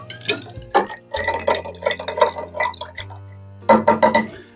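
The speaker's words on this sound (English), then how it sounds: "We'll go ahead and stir that up." Ice clinks and rattles against glass as an Oaxaca Old Fashioned of mezcal and tequila with Angostura bitters is stirred, a close, rapid series of bright chinks with a brief pause before a final flurry.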